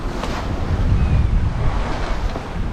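Waves and wind at sea on an overnight sailing passage, a steady low roar of surf against the hull mixed with gusty wind buffeting the microphone, continuous and fairly loud with no talk.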